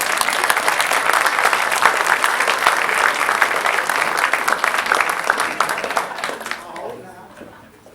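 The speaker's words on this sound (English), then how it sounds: "we want to give you a round of applause" Audience applause at a Caddo Parish school ceremony: dense, steady clapping from a sizable crowd, loud and close, holding for several seconds before tapering off.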